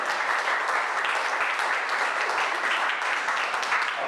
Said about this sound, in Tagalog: Palakpak para sa Jesus